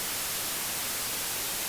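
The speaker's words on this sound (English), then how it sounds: "Listening to sustained sibilance, we find that it closely resembles white noise." Sustained sibilant hiss like a singer's drawn-out S, a steady broadband noise that resembles white noise and lasts under two seconds with no break.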